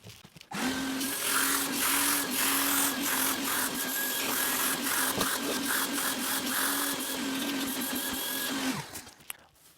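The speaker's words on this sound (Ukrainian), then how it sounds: "Тепер давайте промиємо це миючим пилососом." A wet-extraction vacuum cleaner rinses fabric car upholstery, a steady loud motor whine with a hissing suction that runs continuously for about eight seconds before cutting off abruptly.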